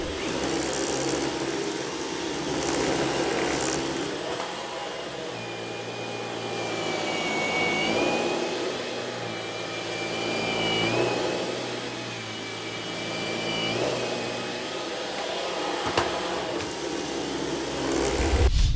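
A Dyson V11 cordless vacuum cleaner runs continuously with a steady high-pitched whine, its motor pitch rising and falling slightly as it moves across the floor.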